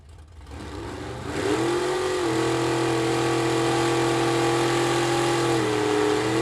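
A 1956 Chevy Bel Air drag car at a vintage drag race, its engine rising from low rumble into a loud, steady rev held near and alone, with a brief pitch dip toward the end.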